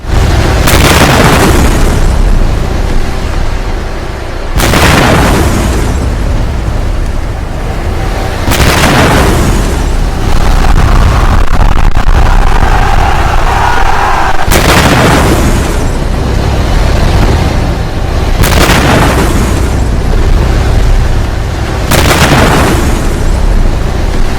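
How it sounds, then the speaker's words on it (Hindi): Loud, heavy explosions boom one after another at irregular intervals, each deep blast rumbling on before the next one hits. "एक के बाद एक ईरान में सिलसिलेवार धमाके हुए कुछ इस तरह से।"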